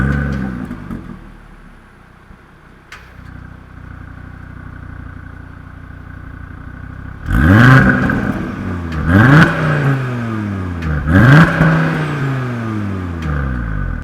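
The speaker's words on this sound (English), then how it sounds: "you just want to listen to that engine and that exhaust" An Audi RS Q3 idles with a low rumble, then its engine revs sharply three times, the sports exhaust roaring up and falling back each time.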